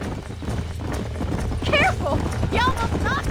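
Horses in the Red Dead Redemption video game, hooves clopping at a quick pace with a whinny or two, loud and close over a busy game backdrop with talk mixed in.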